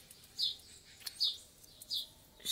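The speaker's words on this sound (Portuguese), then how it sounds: "Vocês estão ouvindo os passarinhos cantar?" Songbirds in a backyard jabuticaba tree in Brazil chirp in short, bright tweets, about four calls spaced roughly half a second apart, fairly close but soft over a quiet outdoor background with no talking.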